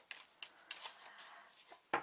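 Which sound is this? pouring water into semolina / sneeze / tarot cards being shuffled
tarot cards being shuffled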